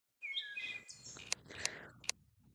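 Bird chirps from a bird staff weapon in the Terraria video game: bright twittering calls followed by three crisp, sharp clicks, fairly quiet and clean with no other sound.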